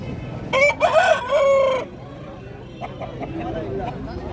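An Aseel rooster at a market crows once, loud and close, a drawn-out call of several rising and falling notes, followed by quieter market background with faint voices.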